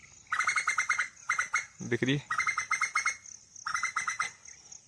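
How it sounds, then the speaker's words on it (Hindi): An Asian koel calls repeatedly in bright, clear bursts on a farm set in a lake. The calls sound close, and someone speaks briefly in the middle between them. "ये देखो भाई कोयल है"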